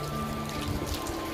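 Heavy rain falls steadily in an outdoor setting, a dense, even wash of drops with no pauses, moderately loud and close throughout, with no one talking over it.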